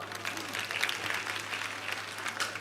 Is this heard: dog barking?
no